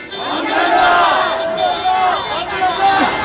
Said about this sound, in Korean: 한 천명 이상의 함성이 들려있는 것 같습니다